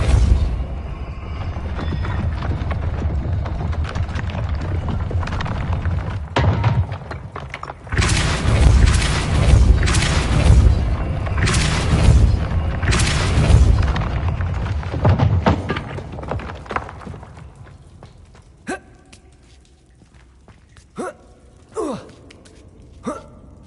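Depulso spell blasts in the PS5 game Hogwarts Legacy, a run of loud booming thuds and whooshing impacts with crackling bursts, thinning out into a few scattered sharp hits near the end.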